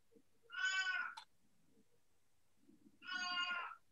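A cat meows twice, two drawn-out complaining cries a couple of seconds apart, clear and close against a quiet room with faint low murmuring between them.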